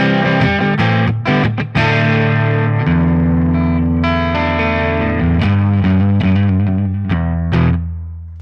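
Electric guitar through high-gain distortion on the bridge pickup, sustained saturated chords and riffs ringing loud and alone, with effects-unit shimmer and occasional abrupt chord changes.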